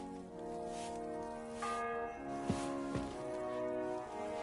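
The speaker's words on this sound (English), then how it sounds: "The fourth bell." A church bell tolls with sustained ringing tones and lingering overtones, a couple of fresh strikes landing midway, moderately distant and fairly soft against a faint background.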